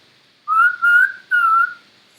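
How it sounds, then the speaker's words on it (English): A person whistles a short tune of three clear, sustained notes, the middle one split in two, loud and close with nothing else heard. "Well, I need a whistle."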